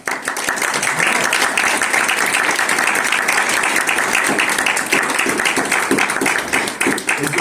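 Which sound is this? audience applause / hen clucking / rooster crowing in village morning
audience applause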